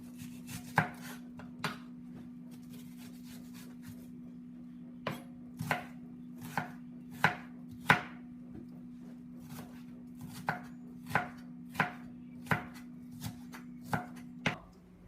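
Onions chopped with a knife on a cutting board for minestrone, a steady series of sharp, close knocks in bursts with short pauses, over a constant low hum.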